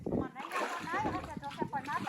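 A bucket splashes and sloshes as it is drawn up from a full village well, giving brief close wet slaps, with voices, including a child's, talking over it.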